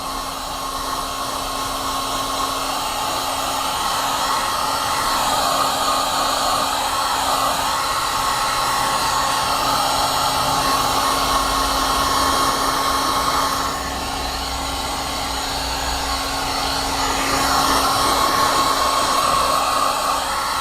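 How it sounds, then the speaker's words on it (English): A hair dryer or heat gun blows steadily over a coated steering wheel during restoration, a loud continuous whirring hiss with a fixed motor whine that barely varies across the whole stretch, with no talking. "And another round of the hair dryer or heat gun."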